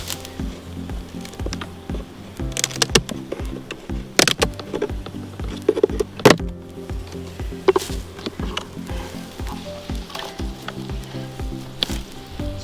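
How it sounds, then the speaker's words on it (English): Honeybees buzz around an opened hive in winter, a faint, fluttering hum broken by close crackles, taps and light clicks from handling the boxes. "This is a nice strong hive with bees all the way across in the brood box."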